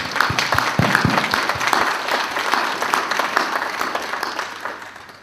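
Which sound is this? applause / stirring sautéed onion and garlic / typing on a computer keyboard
applause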